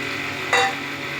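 Marinated chicken with ginger, garlic, green chilli paste, turmeric, salt and oil frying in a pan: a steady loud sizzle throughout, with a brief burst of stronger hissing as the meat hits the hot oil.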